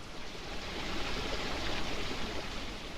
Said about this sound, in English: Our first stop is the Fontana di Trevi, perhaps the world's most famous fountain.